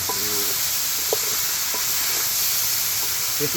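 Flat beans and potato sautéing in a pan for a village-style fish curry, a steady close sizzle and hiss with occasional stirring scrapes, no voices.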